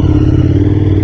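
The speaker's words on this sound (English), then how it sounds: "We have a Krapovich exhaust, so you can hear the bike for sure." A KTM 1290 Super Adventure S motorcycle fitted with an Akrapovic exhaust rumbles loud and close with a deep, steady engine note and some mechanical clatter throughout.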